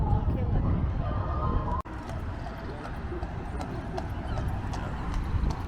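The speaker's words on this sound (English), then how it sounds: "These go up and down the front, pulled by the horses." A horse-drawn carriage goes along a seaside promenade, its hooves clip-clopping in a steady rhythm against busy outdoor crowd noise and wind. A sharp click cuts in briefly partway through.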